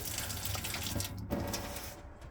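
A tap in an Elddis 520 caravan runs steadily, giving a close, continuous gush and hiss of water with a few sputters as the flow settles. No one talks.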